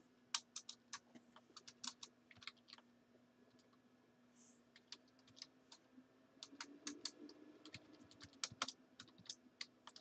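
Rapid bursts of keyboard typing, crisp close key clicks in quick clusters separated by a short pause, over a low steady hum.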